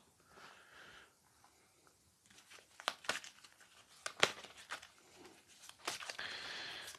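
Crinkly rustling and soft snapping of oracle cards being handled and drawn from a deck, several short crisp flicks and shuffles, close and fairly quiet.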